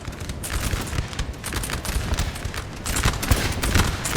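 Massed musket volleys in Napoleon Total War, a steady crackling fusillade of overlapping shots that sounds distant and continuous throughout.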